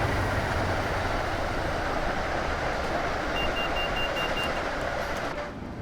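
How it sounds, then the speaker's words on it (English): A train passes in the Train Sim World 3 video game on the Northeast Corridor between Boston and Providence, producing a steady, loud, dense rumble that holds throughout with a faint high tone near the end. "we've got another train"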